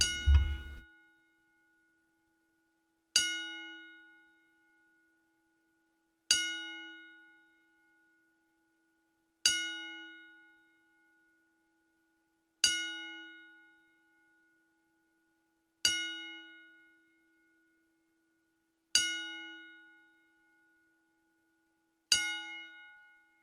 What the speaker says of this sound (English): 10 bell salute for Sheiky Baby.